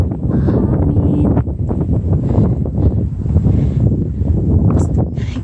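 Strong wind buffeting the microphone on Lantau Peak (Fung Wong Shan), a loud continuous roar with gusty swells throughout.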